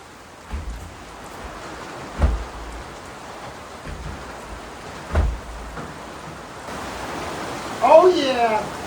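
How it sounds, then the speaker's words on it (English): Steady, broad hiss of rain across the whole clip with a few low thuds, and a voice briefly speaking near the end. "Now that's rain. That is some really good rain."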